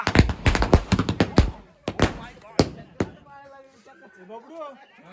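A rapid burst of sharp, loud firecracker bangs in close succession at a Tulsi wedding celebration in Konkan, then a few scattered pops before people start talking.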